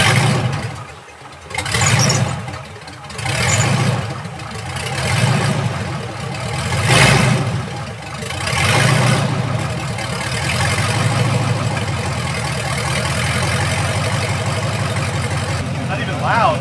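An LS-swapped 1966 Chevy El Camino with stainless headers runs close by, alternating between a lumpy idle and several rhythmic throttle blips before holding a steady idle.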